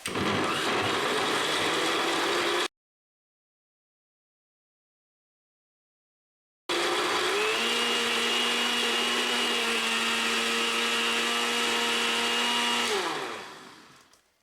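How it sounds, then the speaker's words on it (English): Kitchen blender whirring through a protein shake with fruit and cinnamon: a loud steady motor drone, then a pause of silence, then a second long run that winds down at the end. "All right, blend it up."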